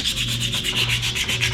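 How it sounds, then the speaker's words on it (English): Steady abrasive rubbing of sandpaper across carbon fiber epoxy on a Porsche 996 interior part, close and continuous with a regular back-and-forth rhythm. "we'll keep sanding on this"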